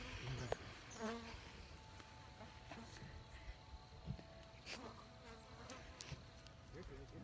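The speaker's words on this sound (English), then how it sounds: "Got a bee in my ear." A bee buzzes close by outdoors, a soft, uneven drone that comes and goes over several seconds beneath scattered quiet voices.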